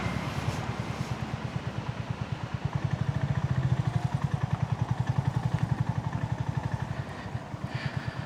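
A motorcycle ridden in second gear with the clutch held in, its engine throbbing in an even, rapid pulse throughout, close and steady, with a faint rattle above it and no talk.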